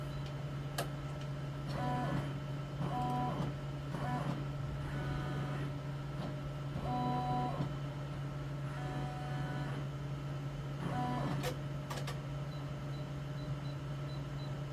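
An embroidery machine tracing a design outline on SewTech Fast Frames, short bursts of stepping motor whirs and clicks over a constant low hum, close and moderate.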